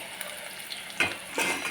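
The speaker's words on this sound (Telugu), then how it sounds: "వేగిన తర్వాత మనం ఆనియన్స్ వేయించుకొని గోల్డెన్ బ్రౌన్ కలర్ వచ్చే వరకు వేయించుకుందాం." Onions and green chillies frying in hot oil give a steady close sizzle, with two louder bursts of hissing as the pan is stirred.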